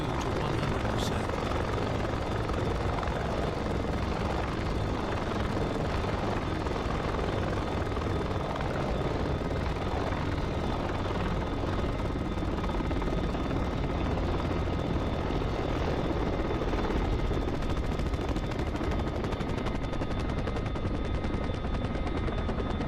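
A helicopter's engine in the DCS flight simulator spools up as the throttle is pushed to maximum, a loud, steady turbine and rotor roar that holds without letup for over twenty seconds, with a voice speaking now and then over it.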